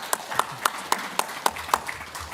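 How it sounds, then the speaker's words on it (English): A handful of sparse, evenly spaced hand claps from the audience at a business investment conference panel session, thin and moderately distant, fading after a few seconds. "one more round of applause to our panelists"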